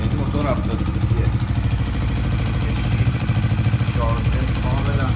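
A small 70cc Pishro motorbike engine mounted on a BMX bicycle runs steadily nearby, its low, even rumble with a buzzing rattle throughout and no clear pauses.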